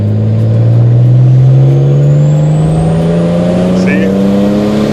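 A BMW 535xi E60 with the N54 turbo engine accelerates under boost in second gear, its steady engine drone rising smoothly in pitch, loud and close from inside the car.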